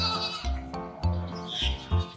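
A male goat bleats several times in short, wavering cries spread across a couple of seconds, close and fairly loud with no talking over it.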